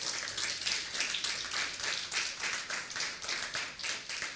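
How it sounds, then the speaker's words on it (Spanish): A church congregation claps together through a sermon in a steady, dense round of applause from many hands, fairly close and with no voices over it. "te voy a invitar que le des un aplauso entonces"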